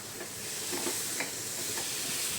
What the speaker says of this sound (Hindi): अब इसमें कुछ आलू डाल करके अच्छे से मिक्स कर लेंगे ताकि वो भुन जाए